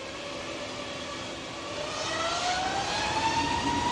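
A Jet2 Airbus A321neo departing Manchester Airport on a windy day builds from a distant jet rumble into a louder roar, with a rising engine whine climbing steadily as it powers away.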